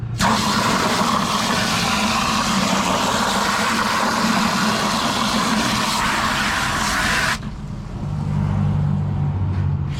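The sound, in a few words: busy road traffic noise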